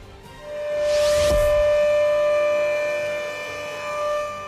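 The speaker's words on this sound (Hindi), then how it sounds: "जैसलमेर में आपातकालीन सायरन सिस्टम को एक बार फिर एक्टिव किया जा रहा है" An emergency siren system near the India-Pakistan border in Jaisalmer sounds a long, steady wail. It swells to full loudness within a second, holds, then eases slightly with a small late rise.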